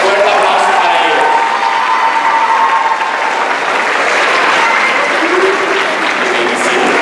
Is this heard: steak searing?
no